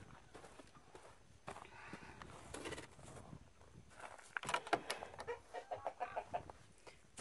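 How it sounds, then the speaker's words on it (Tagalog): Farm chickens clucking in their coop, soft intermittent clucks and calls rising toward the end, with footsteps and rustling nearby. "Punta tayo sa aking manok."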